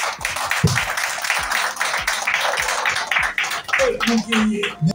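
An audience claps to applaud a union initiative launch, giving a rhythmic run of sharp claps under continuous speech from a man addressing the crowd.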